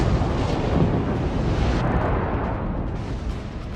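A massive warship explosion in the naval battle game World of Warships, a loud, sustained rumbling blast with heavy low-end roar that slowly tapers without fading out.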